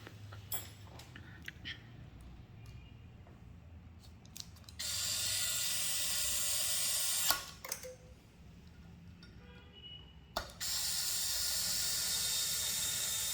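An ASA electric screwdriver spins a loose screw that turns freely without tightening, a close whirring, ratcheting mechanical buzz that starts and stops in loud bursts over a quiet background hum.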